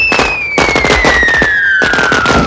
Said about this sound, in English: lighting a match, and setting off a series of explosions